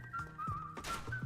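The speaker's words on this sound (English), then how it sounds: "This Gohan whistling thing makes me so uncomfortable." Gohan whistles a tune in a Dragon Ball movie, a thin, wavering melodic line that rises and falls over a few seconds, with soft thumps and background sound beneath it.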